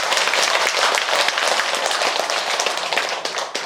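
An outdoor crowd at a Buddhist temple's Buddha's Birthday ceremony applauds, a thick, continuous patter of many hands that fades slightly toward the end, without voices.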